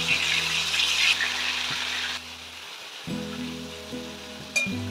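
Sizzling, hissing spatter of chicken frying in hot oil for Hyderabadi biryani, loud and close at first, then easing off as a low steady hum and a faint clink take over.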